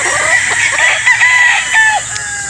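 Gamefowl roosters at a game farm in Batangas crow loudly and close, overlapping calls and clucks running through the whole stretch with no talk.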